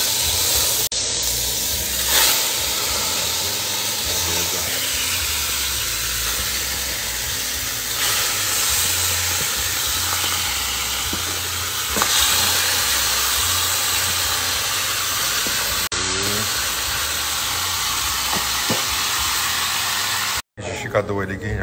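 Chicken thighs frying in a pan over a wood-burning stove, a steady broadband hiss and sizzle that runs the whole time with small crackles, cutting out briefly near the end.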